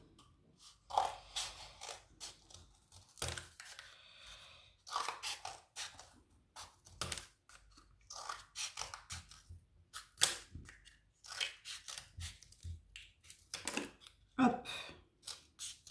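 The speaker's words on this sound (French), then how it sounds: "on va couper des languettes du tube, tous à peu près de la même largeur" Scissors snip through a cardboard toilet paper tube in a run of crisp, close cuts with short pauses between, made while cutting strips of roughly equal width; a brief spoken word breaks in once.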